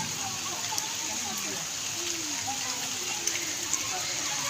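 Steady rain falling outside a Pakistani home during the first winter downpour, a continuous soft hiss with a few faint drips, with quiet voices underneath.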